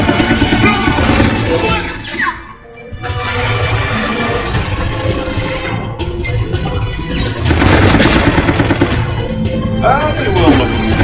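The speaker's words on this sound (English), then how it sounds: "I'm pretty sure I was just shooting that last." Rapid bursts of video game gunfire from Resident Evil Operation Raccoon City crack loudly in quick succession, with brief pauses between volleys, under a person talking.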